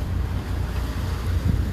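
Sea waves and wind in Venice, Italy, with a continuous low roar of wind buffeting the microphone over the wash of water, loud and steady with no voices.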